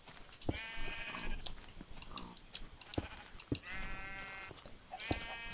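Sheep in the Minecraft video game bleating several times in wavering nasal calls, quiet and spread across the clip among soft clicks and taps.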